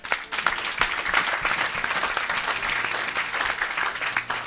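Church congregation applauding and acclaiming the Lord during a worship service, steady dense clapping close and loud throughout with a few cheers mixed in.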